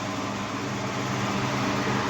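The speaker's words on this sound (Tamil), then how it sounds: "காற்று வந்து ஃபேன் தான். இதுதான் ப்ளோயர்." Steady broadband whoosh of a small blower fan running continuously, with a low mechanical hum underneath and no voices.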